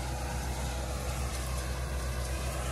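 A tractor working in third gear in a bean field, its engine a steady, even drone heard alone at moderate distance.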